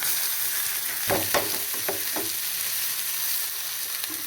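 Horse gram tipped into a pan of browned fried onions sets off a steady sizzle, with a few quick scraping stirs of a spoon near the middle, and no one speaking.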